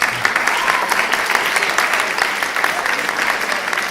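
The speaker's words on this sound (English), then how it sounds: "let's give a round of applause for both of them" An audience at a reading contest applauds two finalists with steady, sustained clapping from many hands, even in level throughout and fairly close.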